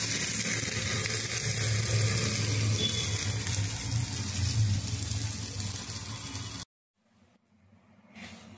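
Water poured into a pan of tondli (ivy gourd) vegetable to cook, a loud rushing pour for several seconds that cuts off abruptly, followed by quiet soft bubbling.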